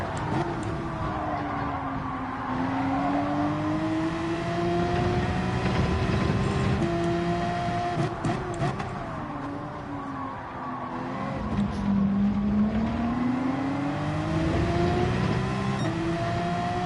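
A race car engine in Gran Turismo 7 drones steadily for the whole stretch, its pitch sweeping up and down with gear changes and throttle, moderately quiet and continuous with no talk over it.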